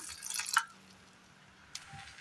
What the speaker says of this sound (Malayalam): ഇനി ഇതിലേക്ക് ആവശ്യമായ ഒരല്പം വെള്ളം കൂടി ചേർത്ത് കൊടുക്കാം